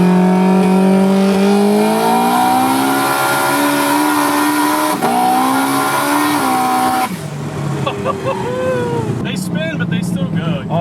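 A 900+ hp Honda S2000 drag car with a turbocharged F20C engine and Powerglide transmission screams at high revs as it launches, pitch climbing steadily, then drops off with a shift before crackling and popping nearby.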